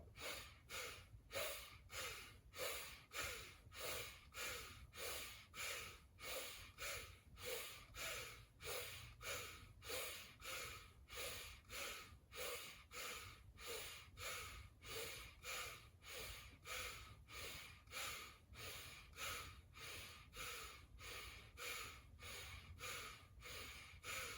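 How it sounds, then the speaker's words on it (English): Bhastrika yoga breathing during a vinyasa flow, rapid forceful breaths through the nose in a steady even rhythm, about one per second, repeated continuously for many rounds, close and fairly soft. "we're going to do another 20 rounds of Bhastrika"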